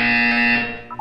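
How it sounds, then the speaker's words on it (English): A Portal 2 video game buzzer blares as one loud, steady electronic tone lasting about a second, then cuts off abruptly. "When you hear the buzzer, look up at the ceiling."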